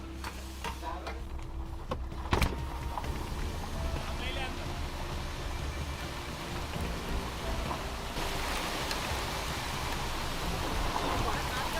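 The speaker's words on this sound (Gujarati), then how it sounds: "વરસાદ આવવા માંડ્યો છે" Steady rain with wind hisses and patters on surfaces at a house construction site, with a few scattered knocks and clatters.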